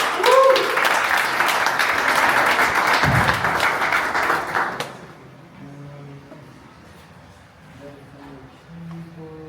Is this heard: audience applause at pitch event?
yes